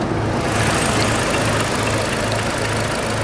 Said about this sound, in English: It's a 2-liter 4-cylinder turbocharged engine.